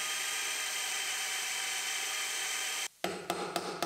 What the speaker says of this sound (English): And we'll drill out our spot welds that are in between our two cuts